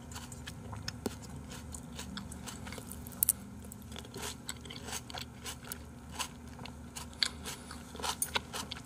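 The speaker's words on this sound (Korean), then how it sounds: "진짜 음식 먹을 때 저렇게 쩝쩝거리는 사람 진짜 극혐이긴 해" Loud, wet smacking and crunchy chewing of food up close, a steady run of bites and mouth clicks with sharper crunches scattered through, no talking.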